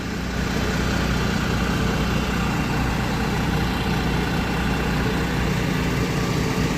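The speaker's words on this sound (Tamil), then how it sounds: "ஸோ என்ஜின் கிட்ட வந்துட்டோம். எப்படி சவுண்டு கேட்குது எப்படின்றத பாருங்கள்." Volvo 9600 multi-axle coach engine idling, picked up close at the rear of the bus: a steady, loud low rumble with an even drone that never changes and no speech over it.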